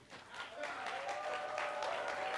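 A crowd applauds at a city's State of the City address in Worcester, Massachusetts, with steady clapping heard from a distance and a little crowd noise mixed in, rising after a brief start and holding to the end.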